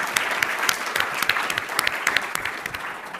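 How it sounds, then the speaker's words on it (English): Audience clapping at a charity event in Puerto Rico, a steady dense round of applause from a sizable crowd with crisp individual claps, holding at moderate volume and easing off slightly at the end. "Give yourselves a round of applause"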